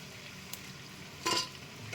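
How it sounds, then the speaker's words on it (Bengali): Masoor dal pakoras frying in oil, a steady soft sizzle throughout with a brief louder crackling burst near the end. "পকোড়াগুলো একদম ভাজা হয়ে গেছে খুব মুড়মুড় করে মানে আওয়াজ হচ্ছে"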